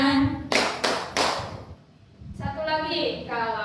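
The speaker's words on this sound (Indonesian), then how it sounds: "Kalau kau cinta Indonesia tepuk tangan." A class of students claps hands together in a microteaching lesson, with a few sharp bursts of clapping between stretches of a lively voice speaking and chanting.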